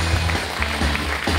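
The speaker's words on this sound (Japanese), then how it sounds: "大きな拍手でお迎えください。" Audience applause at a Japanese action sports awards ceremony, a short burst of clapping from a crowd that fills the whole moment at a fairly loud, steady level with no pause.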